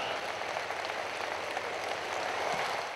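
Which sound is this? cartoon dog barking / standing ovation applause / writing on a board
standing ovation applause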